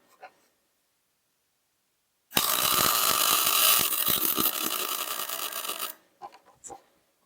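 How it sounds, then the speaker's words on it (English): A welder lays a bead on the outer wheel bearing race of a 1977 VW Bus: a loud, dense crackling burst of about three and a half seconds follows silence, then a few brief clanks. "So let me weld this up."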